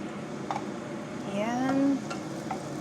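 Onions sizzle in a hot pan in a home kitchen, a soft steady hiss with light stirring clicks and a brief rising voice-like tone midway.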